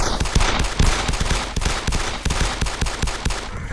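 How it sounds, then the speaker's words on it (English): Close, loud automatic gunfire in the video game DayZ, a fast string of sharp rhythmic shots with brief pauses between bursts, heard alone without talk. "Oh, you're shooting him. Oh, you're hitting."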